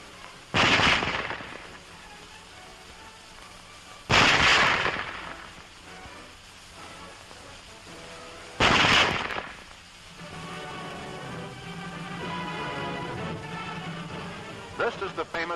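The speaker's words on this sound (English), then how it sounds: "Loading and firing the Model 98K is the same as our own Springfield" A German Model 98K bolt-action rifle fires three loud, sharp shots, spaced several seconds apart, each with a short echoing tail, with bolt handling and someone talking in between.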